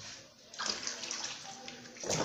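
Water sloshing and splashing in a tub while a cat is bathed, a soft, steady wash of water that swells after a quiet start and continues at low volume.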